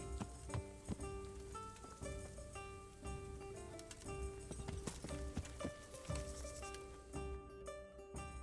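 Horse hooves clip-clop steadily in the medieval video game Kingdom Come: Deliverance, a rhythmic trot of hoofbeats over layered game music and ambience.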